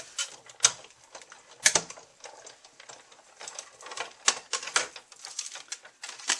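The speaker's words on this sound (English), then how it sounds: "we're just going to go ahead and cut the next size up in the framelit" A Big Shot die-cutting machine cuts card with a Framelits die, heard as close, irregular clicking and ratcheting clacks over about six seconds with no talk.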